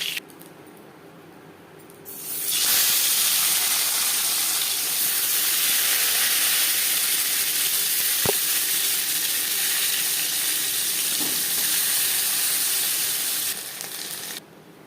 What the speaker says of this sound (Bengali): মাছ ভেজে নেওয়া কড়াইতে আবারও তেল দিয়েছি